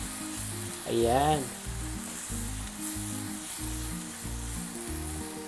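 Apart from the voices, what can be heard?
stirring egg and tomatoes simmering in a pan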